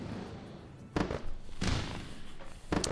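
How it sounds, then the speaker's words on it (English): Fireworks sound effect: a few muffled booms and thuds at irregular intervals over a steady low rumble, moderately loud with no voices. "Fireworks."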